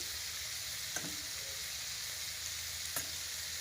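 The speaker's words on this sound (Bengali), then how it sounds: "আমার চিকেনটাকে হচ্ছে কষানো একটু ভাজা ভাজা হবে" Chicken sizzles and fries in a pan, a steady hiss running throughout with two brief clinks of stirring, no one talking.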